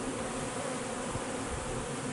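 Honey bees buzz around a hive in spring, a dense continuous hum that fills the whole stretch at steady loudness, close by and with no talk over it.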